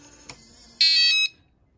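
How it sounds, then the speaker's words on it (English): An RVLock keyless RV door lock sounds a short, loud electronic beep when locked by remote, a bright tone of about half a second over a quiet room with a faint click just before it. "how to turn off that beep so you don't hear the beeping sound if you don't want to"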